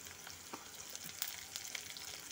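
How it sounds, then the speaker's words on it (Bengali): Carrots and cauliflower frying in a pan for masala sabu, a steady broadband sizzle with scattered crackles and faint utensil ticks, close and moderately loud, with no talking. "গাজর ফুলকপিটা একটু প্রথমে একটু ভাজা ভাজা করে নেব"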